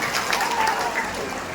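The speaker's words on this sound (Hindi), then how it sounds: "अगर आपको अच्छा लगा एक बार दोनों हाथ में जोरदार ताली चेयरमैन साहब के लिए बजाएं।" Applause from an audience at an Indian mushaira and poetry gathering, a brief burst of dense, even clapping from many hands with voices mixed in.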